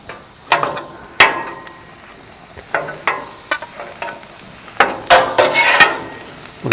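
Rice being mixed with chicken teriyaki on a Big Green Egg griddle, a series of sharp metal spatula scrapes and clacks in an irregular rhythm over a faint sizzle, close and fairly loud, no talking.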